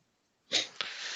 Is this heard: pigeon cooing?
no